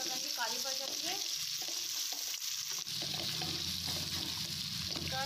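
Cut sweet potato frying in a pan for halwa, giving a steady soft sizzle and bubbling that runs continuously and fairly quietly throughout, with no talk.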